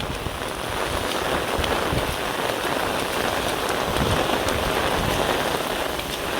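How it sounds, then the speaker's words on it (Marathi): Heavy rain pours steadily during flooding in Ashagad, Dahanu, a dense, even hiss of drops on surfaces that stays loud and unbroken throughout, with faint wind noise and no voices. "बघा पाऊस किती पडतोय."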